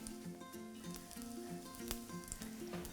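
Courgette fritters fry in a pan with a continuous soft sizzle and faint crackle, heard steadily beneath a gentle melodic backing tune.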